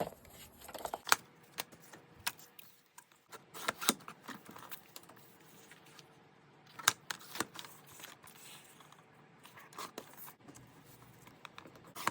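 Paper being cut with scissors for ephemera crafts, giving quiet, irregular snips and rustles with short sharp clicks spread across the stretch, close by and faint, with no talking.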